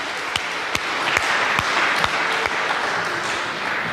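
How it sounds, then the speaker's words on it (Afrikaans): A church congregation claps during a Sunday service. The steady, lively applause fills the room, with a few sharper individual claps standing out from the crowd. "'n lekker hande klap asseblief"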